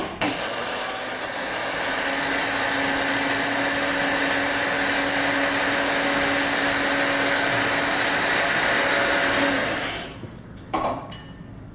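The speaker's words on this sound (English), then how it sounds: "So we're gonna go ahead and grind those 10 grams of coffee." Electric grinder milling 10 grams of coffee beans for French press, a loud steady whirring buzz that runs for about ten seconds, then cuts off, followed by a brief clatter.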